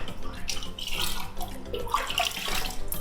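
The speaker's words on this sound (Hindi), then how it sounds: "अब इसे हम थोड़ा सा इसमें घुमाते हैं बर्फ़ को, ताकि अच्छी तरह से शरबत ठंडा हो जाए।" Ice being stirred through a large batch of milk sharbat, a steady watery swishing and sloshing with faint clinks, continuous and close with no talk.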